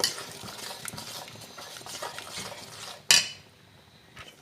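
A spoon stirs thick chana masala gravy in a pan, scraping and clinking against the metal in an uneven rhythm, with one sharp loud clank near the end and soft bubbling underneath.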